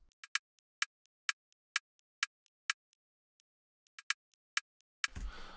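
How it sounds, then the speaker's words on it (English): Clicky percussion synth loop from a bass house track, crisp short ticks in a syncopated pattern, some accented and some faint, ending with a burst of noisier sound, no voices. "Then there is a percussion thingy going on. It has the same rhythm like the melody and it sounds like this."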